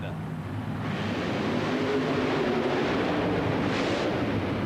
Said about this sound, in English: Side-by-side monster truck racing action.